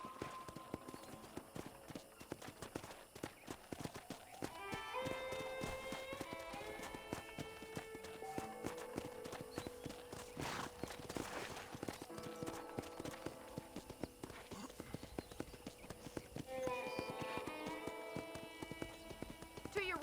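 Horse hooves clip-clop steadily in the Western video game Red Dead Redemption, with a ranch-town setting, the trotting rhythm running under game music and occasional voices throughout, a brief whinny possible.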